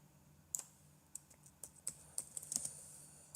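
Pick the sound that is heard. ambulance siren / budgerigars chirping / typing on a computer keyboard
typing on a computer keyboard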